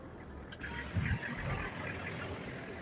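An abandoned Toyota LandCruiser engine idling after starting, a low steady rumble close by with a brief clunk near the start and a slight surge around the middle.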